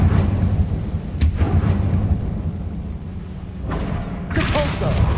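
The Incendio fire spell is cast in Hogwarts Legacy, a heavy low rumbling roar punctuated by two sharp crackling bursts, loud and close, with the deep boom swelling again at the end.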